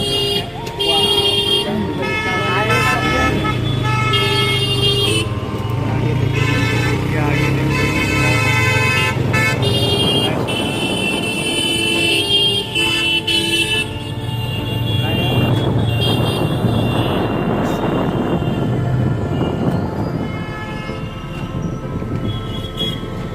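A vehicle's engine drones steadily on a road in Purnia, with repeated horn blasts and passing traffic mixed in, loud and continuous throughout.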